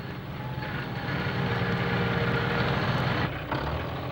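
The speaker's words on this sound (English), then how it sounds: "he heard a powerful engine coming up the road on the other side of the blockage" A new tractor fitted with a bulldozer blade comes up a country road behind a blockage, its powerful engine a steady, loud rumble that swells slightly as it approaches, with no voices.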